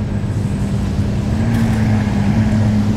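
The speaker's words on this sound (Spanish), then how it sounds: "Ahí viene, al fin, super trofeo Stradale." A Lamborghini Gallardo Super Trofeo Stradale engine drones steadily while approaching, a loud, continuous low rumble with a gradual rise, heard outdoors with no talking.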